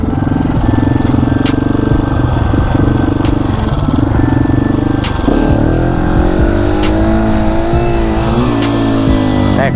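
A 701 motorcycle revs hard in first gear during wheelie practice, loud and close: a steady roaring drone that surges into rising, climbing revs partway through.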